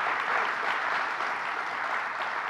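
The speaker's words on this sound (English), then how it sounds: "Let's give Rob Mahika a big round of applause" An audience at a government press conference on Long Island applauds steadily, a dense continuous patter of clapping with no pauses across the short stretch.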